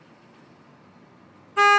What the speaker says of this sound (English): that can be his air horn or his city horn